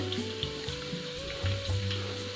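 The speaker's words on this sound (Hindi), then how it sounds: "यहाँ पर ऑयल मैंने गरम कर लिया है और इसे हम फ्राई कर लेंगे।" Chicken bread balls fry in hot oil with a steady close crackling sizzle, accompanied by a faint continuous tonal hum in the background.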